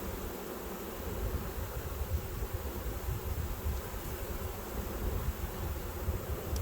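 Honey bees buzzing around an open hive during a late February inspection, a steady dense hum of many insects close by, with no talk.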